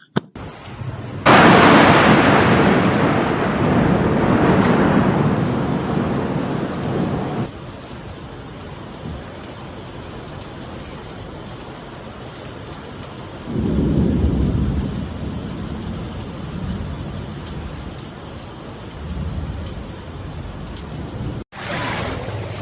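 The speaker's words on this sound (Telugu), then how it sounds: "భారీ ఉరుములతో జడివానతో భాగ్యనగరం తల్లడిల్లిపోయింది" Heavy thunderstorm over Hyderabad: a loud roar of downpour with booming thunder, a big crack early on and another rumble midway, rain hissing steadily throughout with no voices.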